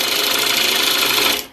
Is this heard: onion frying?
no